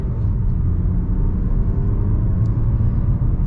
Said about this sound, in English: Yeah, the engine's responsive, so is the transmission.